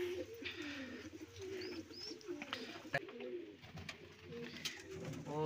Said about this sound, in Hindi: बाकी ये रहे कबूतर मेरे।